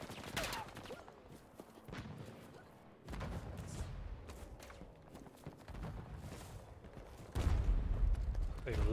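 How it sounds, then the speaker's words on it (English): Incoming rockets and gunfire rumble and crack in a Battlefield 2042 match, with sustained bursts and booms that swell louder near the end while a voice talks intermittently. "rockets flying in"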